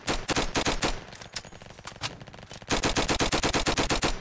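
Rapid automatic gunfire in the Roblox game Flag Wars, loud rhythmic bursts of evenly spaced shots, pausing briefly before a second fast volley.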